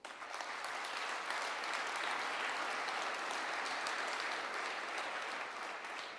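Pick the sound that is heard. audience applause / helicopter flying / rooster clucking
audience applause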